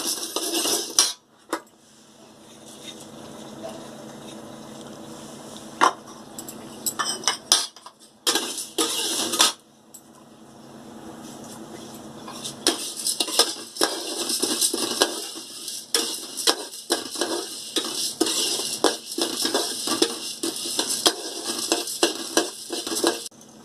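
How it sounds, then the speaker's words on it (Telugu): Urad dal and chana dal dry roasting in a pan for sesame powder, with a spoon scraping and clinking against the metal in irregular bursts and runs of rapid stirring, close and fairly loud, no talking. "ఇందులో మినప్పప్పు, పచ్చెనగపప్పు వేసుకొని వేయించుకోవాలి."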